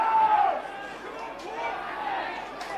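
Crowd at a Glenelg vs Port Adelaide SANFL football game gives a broad, steady roar and murmur, with a whistle early on and commentary over it.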